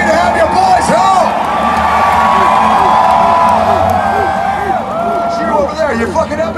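Crowd cheering at a concert at the Iowa State Fair, a loud sustained roar of whoops and shouts from a large audience throughout, swelling and holding steady.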